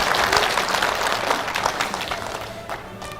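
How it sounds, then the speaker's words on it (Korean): An audience at a politician's constituency report meeting breaks into a full, dense burst of applause that tapers gradually over a few seconds. "여기를 박수 쳐도 됩니다"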